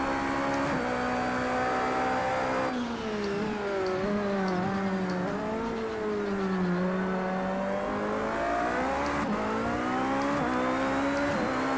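Invented race car in the racing video game Project Cars, played on a Thrustmaster wheel setup: a loud, continuous high engine whine rising and falling with revving and gear changes, alone without talk.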